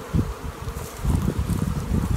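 Honeybees shaken off a brood frame while requeening nuclei, a dense, steady buzzing close by with rustling surges from the shaking, no voices.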